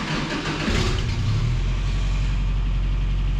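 A 1967 Toyota Stout truck engine with a loud muffler fires up, then settles into a steady, loud, low rumbling idle close by, with no talk over it.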